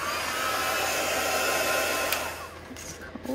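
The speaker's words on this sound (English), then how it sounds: "I'm going to give it a dry with my dryer." An electric hair dryer blows steadily, used to dry fabric while making a fabric-covered journal. Its loud, even rushing whir carries on for a few seconds, then eases off at the end amid small clicks.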